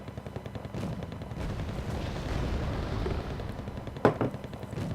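Gunfire in the strategy video game Wargame Red Dragon, a sustained rumble of rapid distant shots and booms with a sharper, louder crack near the end, heard without speech.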